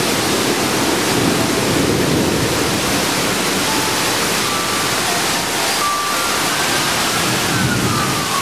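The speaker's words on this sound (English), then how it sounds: "Now the sirens are out and stuff going on." Faint, distant emergency sirens wail briefly beneath a constant roar of heavy rain during a severe Florida thunderstorm with tornado activity.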